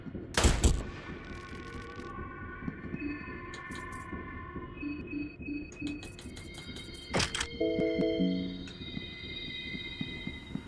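Gunfire in the video game Fear & Hunger 2: Termina: a sharp loud shot at the start and another later, mixed with game clunks and tonal effects, heard fairly close with no talk.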